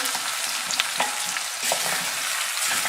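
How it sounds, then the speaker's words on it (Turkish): Leeks frying with tomato paste in a pan give a steady, close sizzle with intermittent scraping stirs, a continuous crackling hiss throughout. "Şöyle 1-2 dakika salçayla kavrulsun"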